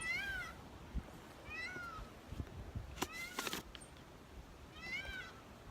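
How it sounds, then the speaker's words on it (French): Several high, warbling parrot calls repeat at intervals, fairly faint over a quiet background with a few soft knocks. "perroquet. C'est lui qu'on entend depuis tout à l'heure"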